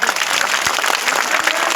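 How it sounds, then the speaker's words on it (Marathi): A gathered crowd at a hunger-strike protest meeting breaks into loud, dense clapping, a burst of many hands close by that carries on steadily through the brief moment. "त्यांच्यासाठी एकदा कडकडून टाळ्या वाजवा"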